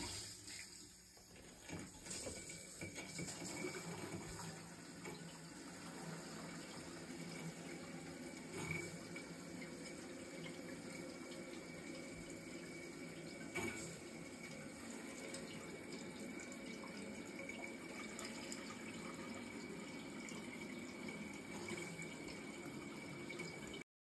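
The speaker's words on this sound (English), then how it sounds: "we're going to go ahead and add a little bit of water to the actual tank" Water running steadily into a toilet tank during a leak repair, a continuous close rushing and splashing fill with a faint pump-like hum, lasting over twenty seconds with no talk.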